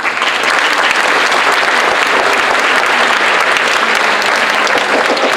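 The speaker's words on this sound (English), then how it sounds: "Give her a applause." A crowd at a high school freshman orientation gives Mrs. Reed a loud, sustained round of applause, thick and continuous from start to finish.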